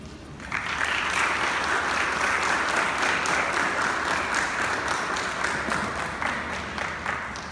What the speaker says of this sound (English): Give him a big round of applause on that, man.